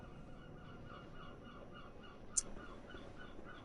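Geese honk repeatedly outdoors in a faint, rhythmic series of calls, distant and low in level, with one sharp brief click standing out midway.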